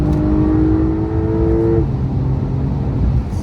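A Porsche 911 Carrera 4S with 450 hp is driven hard on the Nürburgring. Its engine drones loud and steady at full throttle, and the tone sweeps upward before a gear change drops the pitch and the engine keeps pulling.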